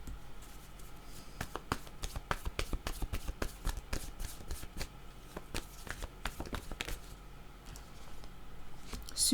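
A deck of cards shuffled by hand, quick riffling bursts and sharp snaps in an uneven rhythm, close and fairly quiet.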